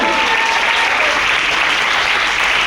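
Loud, packed applause fills an income plan seminar hall, a thick continuous wash of clapping from a large crowd with no pauses.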